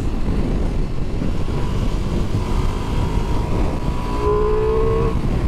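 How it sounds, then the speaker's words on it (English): A Ducati Multistrada V4S Rally motorcycle engine runs in a steady, rumbling drone while riding, with a brief rising rev near the end, heard close over road and wind noise. "Oh, the bark from that engine is addictive."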